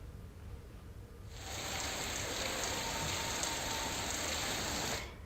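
Steady rain falls in Patna, Bihar, a broad close hiss of drops on surfaces that starts abruptly after a quiet second and holds evenly, with no voices.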